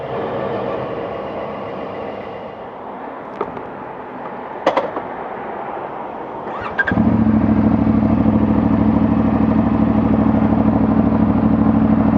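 A CFMOTO 450MT motorcycle starts with a click and catch at about seven seconds, then settles into a steady, loud, close idle after quieter background rumble and a few clanks.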